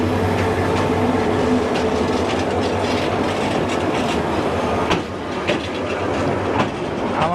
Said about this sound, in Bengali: এই লোকোটি নিয়ে এখন কিশোরগঞ্জ রেল স্টেশনে প্রবেশ করলো।